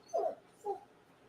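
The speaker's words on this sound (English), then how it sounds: "Let me let my dogs out." A German Shepherd whimpers indoors, wanting to go outside: two short, close, high whines separated by a brief pause, with no talking.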